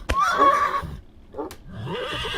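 A horse in the video game Mortal Online 2 neighs loudly in a shrill, wavering whinny, followed by a shorter snort and softer rustling noise.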